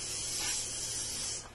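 A can of bug spray hisses in one continuous burst lasting over a second, close and steady before cutting off at the end.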